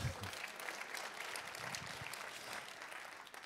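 An audience applauds a politician's speech at a liberal political gathering, a steady, moderately distant patter of clapping that tails off slightly at the end.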